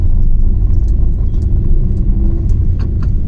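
A car engine rumbles steadily from inside the moving vehicle on the way to a servicing appointment, a continuous loud low drone with road noise and faint light rattles throughout.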